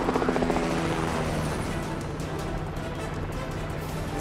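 A helicopter flies over jungle in a film scene, its rotor thumping loudly and continuously with dense broadband engine roar close by, and no speech over it.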